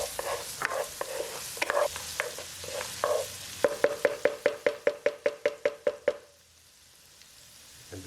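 Garlic sizzles in a pan with onions for a meatball sub sauce, a frying hiss beneath a fast run of rhythmic utensil clacks and scrapes against the pan that stop abruptly, leaving near quiet.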